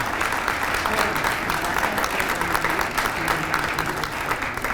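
Attendees at a press conference announcing a Frontier crew base at Hopkins airport give a round of applause, steady dense clapping from a crowd that carries evenly from start to finish with a faint murmur underneath.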